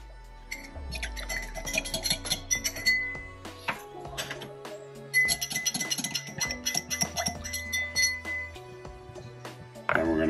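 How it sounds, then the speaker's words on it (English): A muddler grinds preserved lemon into simple syrup in a glass, with bright clinks and taps of glass and utensil repeating steadily up close and no talking over them. "take the preserved lemon and muddle it with the simple syrup"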